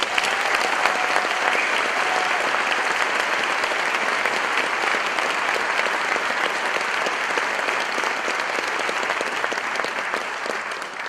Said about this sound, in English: Please join me in a round of applause and appreciation for our faculty.